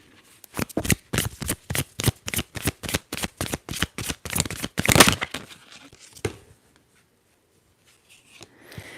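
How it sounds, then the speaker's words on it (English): Rapid riffle shuffling of a tarot deck, about a dozen quick crisp bursts in a steady rhythm, then a few softer card handling sounds. "we're gonna get a very good shuffle to see what pile number 1 tarot cards you have"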